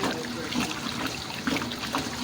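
A 1957 solid tub Speed Queen washer overflowing: steady trickling and splashing water, continuous and close, with faint machine rumble underneath.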